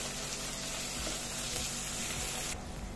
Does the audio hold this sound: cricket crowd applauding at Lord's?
no